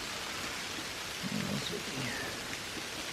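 Steady wet rain mixed with snow falling outside a hot tent high in the Colorado mountains at early winter, a dense hiss throughout with faint low murmuring partway through.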